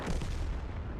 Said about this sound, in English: I can definitely pen an HE shell against the Barask.